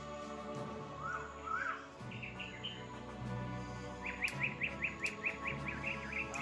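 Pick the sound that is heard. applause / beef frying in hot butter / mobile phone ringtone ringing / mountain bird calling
mountain bird calling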